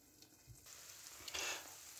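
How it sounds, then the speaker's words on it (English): Cheesy tuna and egg cook slowly in a pan under a lid, giving a faint, soft sizzle and crackle that swells briefly, quiet and close. "So we do place the lid on and let it cook nice and slowly."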